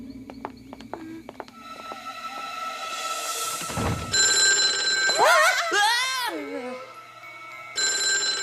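A telephone rings in a French cartoon, sounding as a clear, repeated electronic trill close up, mixed with animated voices, cartoon sound effects and music.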